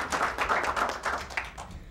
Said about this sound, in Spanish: Recibamos con un fuerte aplauso a Bingy Bello.